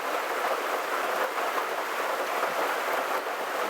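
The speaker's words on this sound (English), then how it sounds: "Downpour, absolute downpour." Heavy rain pours down in a dense, steady roar of hiss with no pauses, close and loud throughout.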